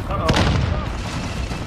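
A frag grenade detonates in a first-person shooter, a single sharp, loud blast that rolls off into a rumbling tail, with game noise continuing underneath.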